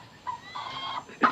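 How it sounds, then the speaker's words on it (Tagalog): A farm chicken clucks in a pen, a couple of short, close clucks ending with a sharper, louder call. "O dito may isa pang manok."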